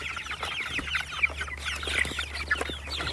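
Chickens clucking busily over scattered food on a farm, a dense overlapping chorus of close, excited clucks and squawks with no talking.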